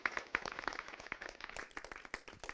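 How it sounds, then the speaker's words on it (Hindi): Villagers at an outdoor meeting on pulse and oilseed farming break into scattered, uneven hand claps. The sharp individual slaps come from a small group and sound faint and somewhat distant. "एक बार तालियों से अपने आप का स्वागत कर दीजिए।"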